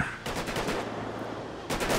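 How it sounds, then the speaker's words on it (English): Rapid bursts of automatic gunfire aimed at a vehicle in a video game mod, dense rattling shots close by in quick succession with no talk. "Oh, they're shooting at it again"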